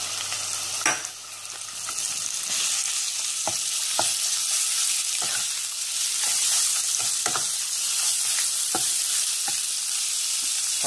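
Pork stir-fries in a hot pan for a spaghetti dish with mushrooms, a constant sizzle broken by repeated scraping clicks of a spatula against the pan, close and steady, with no speech.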